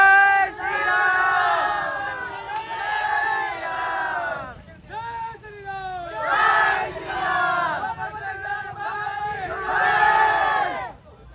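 A dense crowd at the Bajrang Das Bapa death anniversary fair in Bagdana roars and chants slogans together in loud, repeated surging waves, with many voices shouting at once.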